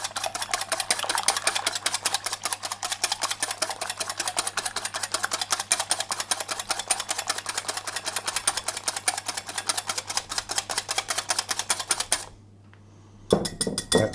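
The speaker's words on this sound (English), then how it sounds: "I'm just going to whisk them until they're a little bit frothy" Egg whites whisked by hand in a bowl for mandarin friands, a fast steady clatter of tines against the bowl that runs without pause for about twelve seconds, stops briefly, then starts again, close and fairly loud.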